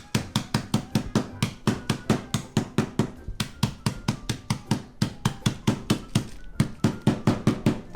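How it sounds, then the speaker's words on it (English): Rapid, steady hammer blows crushing ingredients for peanut butter balls, dozens of sharp close knocks in a fast even rhythm with a couple of brief pauses. "you can use a hammer with parental supervision"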